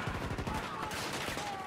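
Rapid gunfire from a Battlefield 2042 match, a dense and continuous rattle of overlapping shots that stays loud and steady throughout, with no clear talk over it.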